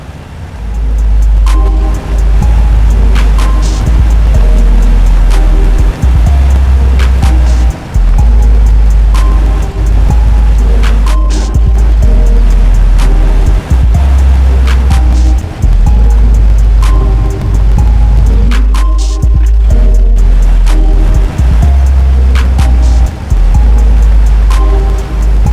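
A truck in the off-road video game Mudrunner drives along a road with a loud, continuous low engine rumble, shifting in pitch with gear and throttle changes, over a rough, splashy wash of terrain noise, with no talking.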